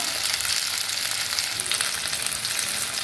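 Chillies frying in oil, a dense, continuous close-up sizzle and crackle at an even loudness throughout, with no voices.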